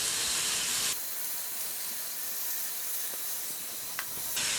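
Beef rump roast strips sear in a hot pressure cooker, giving a steady loud sizzling hiss that runs throughout with a brief quieter dip near the end.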